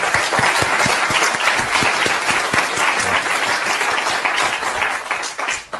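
A crowd applauds steadily for several seconds, dense continuous clapping with a few sharper claps standing out, in a recording played back.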